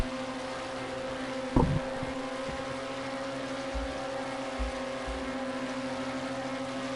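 LMP2 race cars in a racing video game drone with a steady, sustained engine tone, with a few brief low thumps and shifts over the hum.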